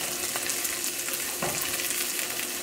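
A cheddar cheese taco shell fries in a pan with a dense, close, steady sizzle and faint crackling, one brief louder scrape partway through, no voices.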